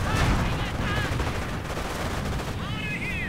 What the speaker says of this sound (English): And of course the mortar is there, and sector artillery goes down as well.